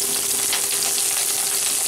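Onions sizzle and crackle in hot oil, a dense steady frying hiss with no pauses and nobody talking.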